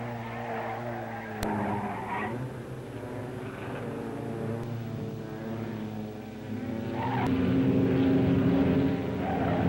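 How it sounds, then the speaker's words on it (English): Richard Petty's Plymouth stock car roars and skids at a race, a sustained engine drone with tire noise that grows louder toward the end, heard without talk. "Richard Petty, with his Plymouth, loses it once and gets lucky, but Lady Luck is not with him this time."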